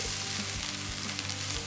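Egg sizzling in a pan for egg fried rice, a brief continuous frying hiss with soft low bubbling underneath, close and steady.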